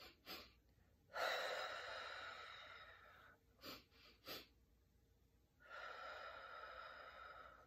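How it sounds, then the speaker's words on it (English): Quick sniffing inhales of bunny-breath yoga breathing, short bursts of sharp nasal intakes followed by longer breathy exhales, close and clear with no talking. "three breaths in, exhale, let it out"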